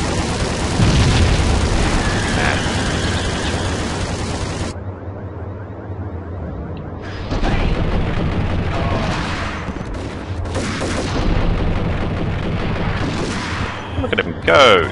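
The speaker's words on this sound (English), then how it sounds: "Grenade!" A grenade goes off in the Max Payne video game, producing heavy booming blasts and bursts of gunfire, with loud rumbling stretches broken by a brief quiet gap midway.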